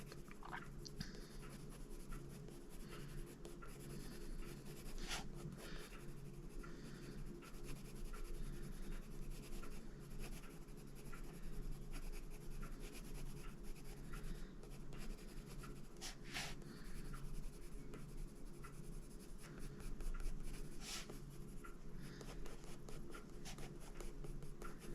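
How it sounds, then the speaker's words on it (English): Black Widow colored pencils scratch steadily across drawing paper in close, continuous strokes with a soft rubbing texture, with faint ambient hum and no talking. "But the Black Widow pencils are really easy to lay down on this paper."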